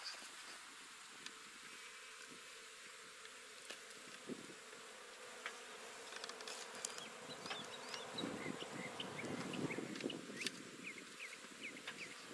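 A honey bee swarm hums and buzzes around a top bar hive outdoors, a steady dense drone with individual bees zipping close past and the buzzing swelling slightly toward the end.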